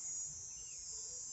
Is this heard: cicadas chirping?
yes